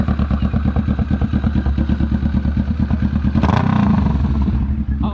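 A Kawasaki Vulcan 650 S with aftermarket exhaust cranks and fires up, a close, loud rhythmic chug that swells into a rougher rev.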